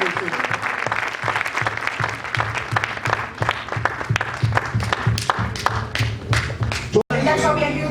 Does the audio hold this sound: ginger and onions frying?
no